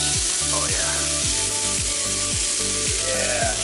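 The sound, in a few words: beef ribs sizzling on a grill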